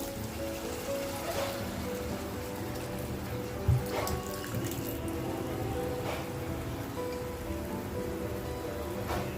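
Hot water poured into a pan of bitter val beans being sautéed, a continuous close splashing pour with a soft knock partway through.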